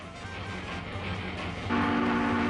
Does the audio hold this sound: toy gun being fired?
no